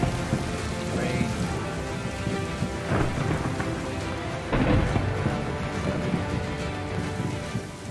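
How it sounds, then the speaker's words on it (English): Rain falls steadily during a desert-season rainstorm while thunder rumbles several times, with low booms swelling near the start and middle over the constant hiss of raindrops. "It was rainy season, and one of the few storms of the entire year was about to commence."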